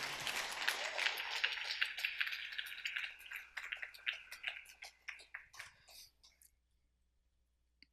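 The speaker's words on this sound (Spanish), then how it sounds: "Denle ese aplauso al Señor en esta hermosa mañana" A church congregation applauds during a sermon, clapping bright and dense at first, then thinning into scattered individual claps and fading to near silence.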